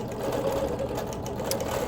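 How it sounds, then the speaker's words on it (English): A sewing machine ditch quilting between rows of tumbler patches, running in a continuous fast mechanical whir with dense rhythmic stitching ticks, close and steady throughout. "So I'm ditch quilting in between each row of patches, and then adding 2 more lines within the row of tumblers."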